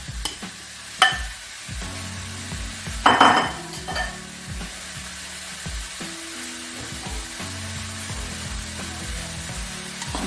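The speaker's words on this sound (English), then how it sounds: "So I'll go in now with my minced meat." Minced meat fries in a pan with a steady sizzle. A spatula scrapes and clanks against the metal every so often, and a sharper clatter sounds near the middle.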